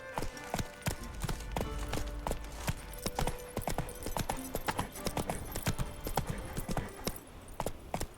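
Roach, Geralt's horse in The Witcher 3, trots with steady, close clip-clop hoofbeats that continue throughout, loud and clear over a low game ambience.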